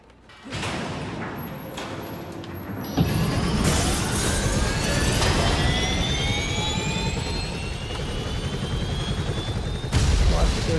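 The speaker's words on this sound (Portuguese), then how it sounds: "Aqui tem como a gente botar esse helicóptero pra voar." A loud engine roar builds and sustains with a rising whine and turbine hum, close and continuous, as a helicopter spins up in the video game Tony Hawk's Pro Skater HD, in The Hangar level.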